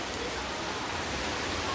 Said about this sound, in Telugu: ఇంత పెద్ద వర్షం